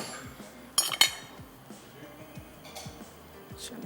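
A pot is covered and set down on a kitchen stove, with a couple of sharp metallic clinks and clanks followed by faint scattered ticks and taps, quiet and close.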